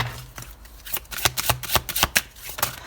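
A deck of Ascended Masters oracle cards is shuffled close up, producing a series of crisp riffling snaps and flicks in an uneven rhythm, with no talking.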